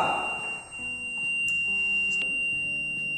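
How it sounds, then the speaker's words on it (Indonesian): A buzzer on an MQ2 smoke-sensor prototype sounds a continuous, high, piercing electronic tone that holds steady throughout against faint background noises. "Ketika asap terdeteksi, maka buzzer akan memberikan output suara."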